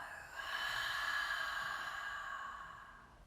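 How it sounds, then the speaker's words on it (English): A single long, breathy open-mouth exhale during restorative yoga breathwork, rising after a brief pause and tapering off slowly over about three seconds, soft and close with no talking. "Open the mouth, let that exhale go."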